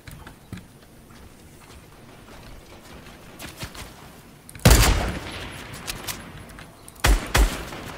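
Gunfire from Fortnite Battle Royale gameplay, with a couple of sharp, loud sniper shots and their echoes standing out against quiet background game noise.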